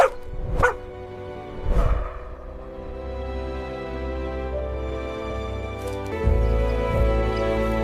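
A dog barks a few times in short separate bursts, followed by a sustained low whining or growling tone, close and moderately loud with no talking.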